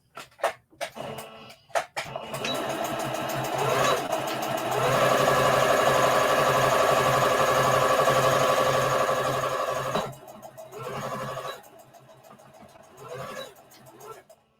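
Sewing machine backstitching fabric pieces of an Easter bunny treat bag, a steady whirring run of about seven seconds near the mic, with brief starts and stops and short bursts before and after.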